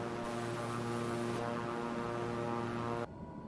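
Steady turboprop drone of an ATR-72-600 in Microsoft Flight Simulator 2020, loud and continuous with a tonal hum, dropping off near the end of the landing.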